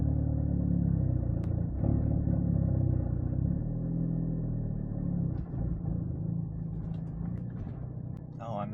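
A car engine strains and lugs while driving in too high a gear through Hawaii traffic, a steady low rumble that stays loud and close for the whole stretch, with faint road noise around it.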